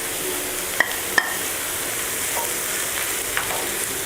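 Chicken masala with masala powder fries in a pan, a soft steady sizzle with a couple of sharp utensil clicks from stirring near the start, close and without talk.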